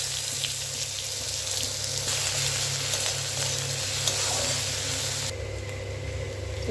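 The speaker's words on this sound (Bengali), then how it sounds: "এবার আমি কুচিয়ে রাখা পেঁয়াজটা দিয়ে দিচ্ছি।" Chopped onion sizzles in a pan with melted sugar, a close, steady frying hiss with faint stirring scrapes and a steady low hum beneath, then it eases slightly near the end with no speech.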